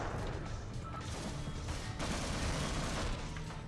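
Rapid sustained gunfire from turrets in a Portal-style video game, a dense continuous crackling barrage with crashing impacts that fills the whole stretch at steady loudness.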